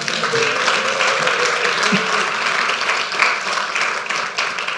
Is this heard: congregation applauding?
yes